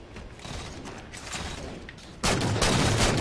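In Halo 4, gunfire crackles as a dense fusillade in the game mix, then a louder, sustained burst of shooting takes over partway through, close and heavy.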